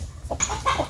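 Chickens cluck briefly in a farmyard as a guinea fowl chases them, the short fowl calls close and clear against a low background rumble.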